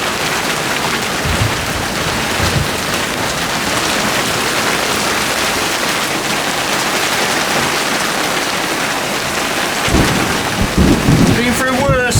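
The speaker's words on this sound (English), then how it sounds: "Torrential rain." Torrential rain pounds a boat at sea in 30-plus-knot winds, a loud continuous roar with a rumble of thunder and some knocking sounds toward the end.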